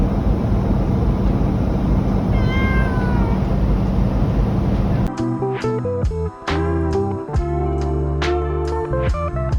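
A pet cat cries with drawn-out, wavering meows over a loud, steady aircraft cabin drone, then repeated shorter meows ring out close and clear against quieter, shifting background sound.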